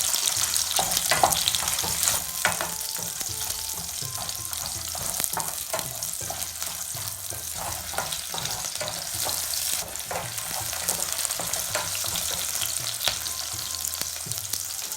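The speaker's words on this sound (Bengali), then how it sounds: "রসুনটাকে একটু ফ্রাই করে নিয়ে এর ভিতরে আমরা 1/2 কাপ পরিমাণ পেঁয়াজ কিউব দিয়ে দিব।" Garlic and onion cubes frying in a pan for baked penne pasta, a continuous bright sizzle with intermittent stirring clatter, close and fairly loud, no voices.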